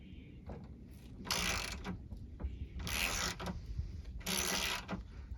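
A wrench breaks loose stuck bolts on a Sierra pickup's tailgate, giving three bursts of harsh ratcheting and creaking metal between quiet clicks and shuffles.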